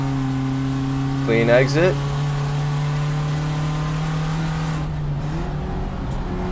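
A VW Jetta GLI Super Touring Car races hard at Thunder Hill Raceway. Its engine holds a loud, steady, close drone with a brief rising note near the start, and a commentator speaks briefly over it.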